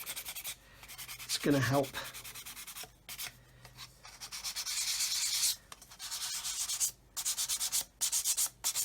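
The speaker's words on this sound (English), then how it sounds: "if we just sand it flat," A plastic part of an Eduard 1/48 Typhoon Mk.1b scale model is rubbed flat on sandpaper in close, quiet scratchy strokes of uneven length, with a short spoken remark near the start.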